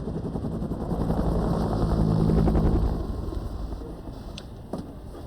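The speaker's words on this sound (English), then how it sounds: "Tell me where you are from the sound of my rotor blades." Rotor blades of a Huey helicopter thump steadily in a continuous drone that swells louder for a few seconds, then eases back with faint sharp knocks near the end.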